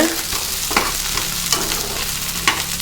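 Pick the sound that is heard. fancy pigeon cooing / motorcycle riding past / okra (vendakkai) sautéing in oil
okra (vendakkai) sautéing in oil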